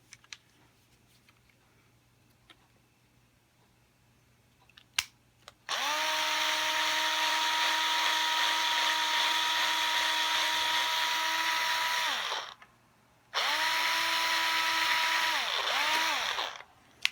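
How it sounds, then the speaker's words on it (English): A power drill runs at steady high speed for several seconds, stops briefly, then spins up again in a second burst, loud and close, while fitting an F-Tuner to a blue Fender Squier Stratocaster guitar. "Maybe we should drill up first."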